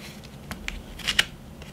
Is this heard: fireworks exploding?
no